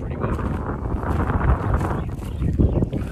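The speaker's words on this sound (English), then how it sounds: "Sorry about the wind, it's a bit windy at the moment." Gusty wind at a building site buffeting the microphone, a continuous rough low roar with uneven surges, while a person talks over it.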